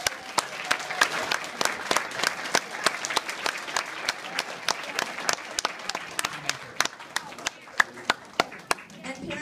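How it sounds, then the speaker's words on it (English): Children at a gold star student assembly applaud their parents and teachers, sharp individual claps scattered over a room-filling round of applause, loud and close, tapering into sparser claps near the end. "can we give your parents and your teachers a round of applause for the great job they did?"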